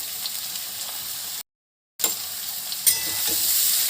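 Papaya with salt and turmeric sizzling in tempered oil, a steady bright hiss that briefly cuts out before resuming with a few scraping stirs.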